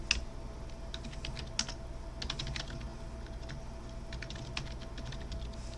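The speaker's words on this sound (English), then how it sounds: "Sorry, I'm a slow typer," Keys clatter on a computer keyboard in a quiet room, slow and uneven with irregular clicks and brief pauses, fairly faint against a steady low background hum.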